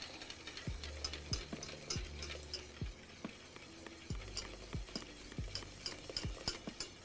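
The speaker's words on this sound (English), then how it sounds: "Just keep whisking." A whisk churns a hot liquid in a pot as it thickens with cornstarch, making a fast rhythmic run of wet stirring and metallic taps against the pot's sides, close and continuous with no talk.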